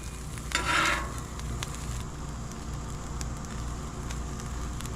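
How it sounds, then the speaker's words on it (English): Snap peas sizzle on a Blackstone flat-top griddle with a steady, close hiss, a brief louder burst of spatter near the start, and faint scraping or stirring clicks. "These are already getting toasted on one side. We're just going to flip them over."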